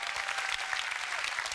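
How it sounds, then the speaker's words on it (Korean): Audience at an education concert bursts into brisk, dense clapping that holds steady and close for a moment, with no voices over it. "이 미래 주인공에 박수 한번 주세요."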